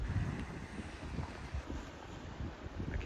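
Strong gusts of wind buffet the microphone outdoors in Vermont, a continuous low rumbling roar with no voices.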